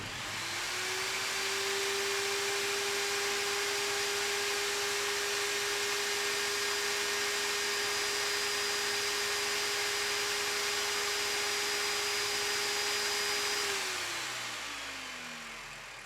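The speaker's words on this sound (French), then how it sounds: "Le bruit d'une scie couvrait à présent les champs de fête." A motor-driven saw running as a horror story sound effect, a sustained steady whine that starts up, holds an even pitch for many seconds, then winds down and fades near the end.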